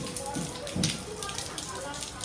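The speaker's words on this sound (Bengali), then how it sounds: "বলতে বলতে বৃষ্টি এসে গেল। এ হলো বৃন্দাবনের হাল, এখন লাগাতার বৃষ্টি।" Steady rain falling in Vrindavan during a spell of continuous monsoon rain, a constant hiss of drops on surfaces close by with a few louder patters, heard alone.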